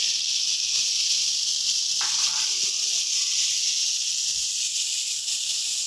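Chopped tomatoes go into frying spices, bringing a loud, continuous hiss and sizzle that holds steady and close throughout, with faint clinks underneath.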